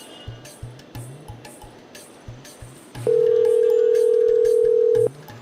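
A steady telephone dial tone sounds for about two seconds during a phone call, loud and even, over a noisy background of clicks and low thumps.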